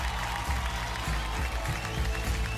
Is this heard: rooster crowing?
no